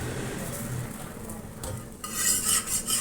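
A chicken paratha sizzles steadily on a pan over medium-low heat, with a louder, brighter hiss in the last second and faint scraping of a utensil underneath.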